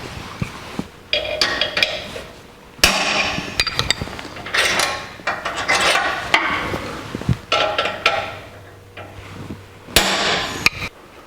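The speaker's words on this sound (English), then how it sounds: "slide that into the hole, hit it with a hammer, and it'll mark the center of the hole so we can drill it" A hammer strikes a steel center punch on metal parts for a 1949 Chevrolet gasser, giving sharp ringing metallic blows at irregular intervals, some in quick pairs, loud and close, with no talk.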